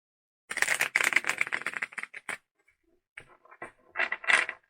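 Tarot cards shuffled by hand in a room, a run of quick riffling clatters followed by a pause and a few shorter bursts of card flicks, fairly close and moderately loud with no talking.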